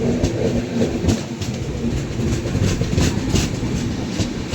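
A train rolls past at close range while crossing the Gomti Express, a loud continuous rumble with rhythmic clickety-clack of wheels over rail joints.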